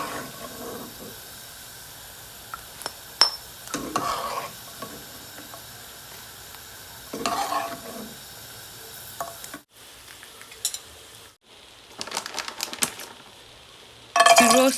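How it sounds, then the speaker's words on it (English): Peanuts roasting in two tablespoons of oil in a separate pan give a steady close sizzle with scattered crackles and pops, broken by brief quiet gaps and a louder burst of frying at the end. "In a separate pan, I've added 2 tablespoons of oil, and in this oil I will be roasting the peanuts."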